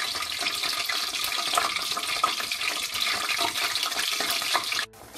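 Chicken pieces fry in hot oil for Kerala-style chilli chicken, making a continuous dense sizzle that stays loud and steady before dropping away at the very end.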